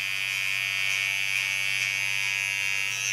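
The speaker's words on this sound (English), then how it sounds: "Take my small Kiona clipper" A small electric hair clipper buzzes steadily and close while trimming the short under hairs during a pixie haircut, a constant high-pitched motor drone with no speech.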